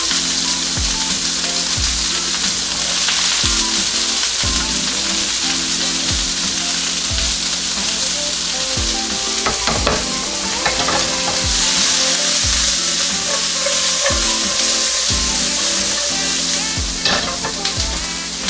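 Chopped onions fry in a hot pan for sweet and sour chicken, giving a steady, close sizzle with stirring scrapes throughout, over soft low background music.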